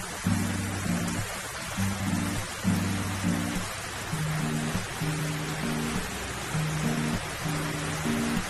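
Heavy rain pours down in a dense, constant hiss, with steady low tones running underneath.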